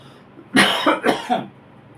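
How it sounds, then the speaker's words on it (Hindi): A short burst of coughing, three quick coughs close to the microphone, fairly loud against a quiet background. "थोड़ी खांसी आ रही है।"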